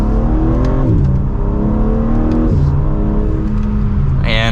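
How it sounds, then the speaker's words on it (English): A 2024 BMW M3 Competition sedan with all-wheel drive accelerates hard in second gear in sport mode, its engine note climbing steadily in rising sweeps with brief dips at shifts, loud and close throughout. "And then in sport mode, second gear,"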